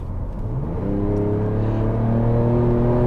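A 2023 Ford Ranger Raptor pickup with a 3.0-litre twin-turbo V6 accelerates on a road, its engine note climbing steadily in pitch and loudness, heard close from inside with no talking.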